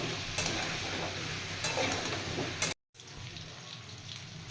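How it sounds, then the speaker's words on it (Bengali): Vegetables seasoned with salt and turmeric sautéing in a pan give a steady close sizzle with stirring scrapes, broken by a brief cut in the middle, with no talk. "প্রথমে এই সবজিগুলো একটু সাঁতলে নেব।"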